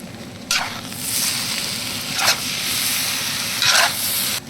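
Vegetable fried rice with chopped dragon fruit is stirred in a hot pan, sizzling steadily throughout, with three distinct scraping sweeps of the spatula cutting through the frying hiss.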